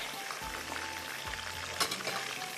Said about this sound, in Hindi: चिकन इसमें निकाल लेंगे सारा फ्राई करके, जब तक ये फ्राई होगा